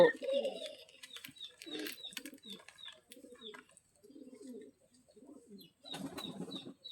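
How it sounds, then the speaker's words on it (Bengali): Pigeons in a loft coo repeatedly in soft, low bursts, with a voice speaking intermittently nearby and some fluttering and rustling. "এক জোড়া কবুতর দেখাচ্ছি"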